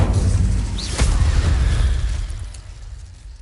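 The Incendio fire spell in Hogwarts Legacy bursts as a loud, close, roaring blast that trails off over a few seconds.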